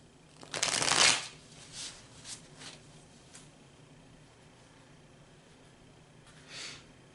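Tarot cards being shuffled on a bed, a loud riffling burst near the start followed by a few softer, shorter card flicks and one last quiet shuffle near the end, close and with no talking.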